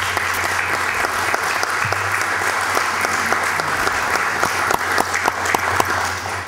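An audience at a district citizen security committee event applauds steadily, a dense wash of many hands clapping with a few sharper individual claps standing out, continuous throughout.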